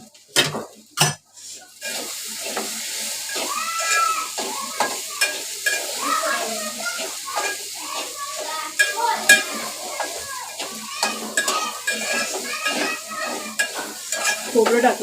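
Okra bhaji with grated coconut being stirred in a pan, a steady close sizzle of frying broken by repeated scraping and clinks of a spoon against the metal, with a few sharp knocks near the start.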